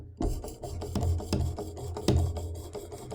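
Kershaw Blur knife blade drawn across the ceramic rod of a Work Sharp Elite precision sharpener: a series of close, rasping strokes, about five, each a short scraping rub with brief pauses between, alone without talk.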